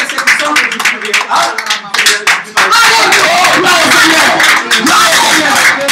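A church congregation claps in bursts that merge into a dense, loud, continuous round of applause, with voices calling out beneath it.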